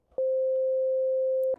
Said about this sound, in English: that's a sine wave because that's the waveform I selected